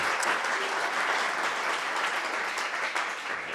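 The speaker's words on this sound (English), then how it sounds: "Can we just get a big round of applause for our judges?" An audience at a startup pitch night applauds the judges, a thick, continuous round of clapping from many people, steady from start to finish.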